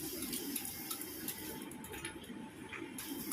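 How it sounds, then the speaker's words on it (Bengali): Running tap water splashes steadily into a sink while dishes are scrubbed with a liquid-soaped Scotch-Brite pad. It is a continuous, quiet domestic wash with no speech. "মেজে নিচ্ছি আমি বাসন টাসনগুলো ভালো করে।"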